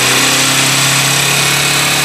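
A Honda NXR160 motorcycle engine, warm after about fifteen minutes of running, revs steadily with a constant buzzing drone and a strong low hum, close and loud throughout with no pause.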